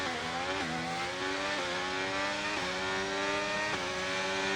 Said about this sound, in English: Sounds like we have a Renault engine.